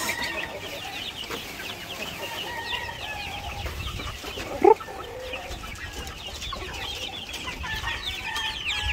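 Hungry White Barred Rock hens cluck softly and intermittently in a farm setting, with a brief louder squawk midway over steady low background noise.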